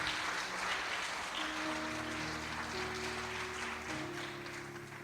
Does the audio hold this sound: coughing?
no